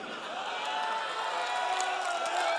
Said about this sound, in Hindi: भाई तालियां बजाते रहो।